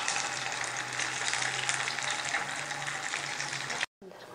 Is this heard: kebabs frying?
yes